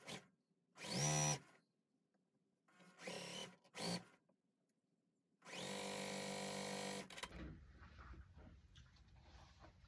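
Sewing machine running in short bursts as a fabric strip is stitched for a checkerboard basket quilt block, with two brief runs, a pair of quick taps, then a longer steady whir before quieter handling noise.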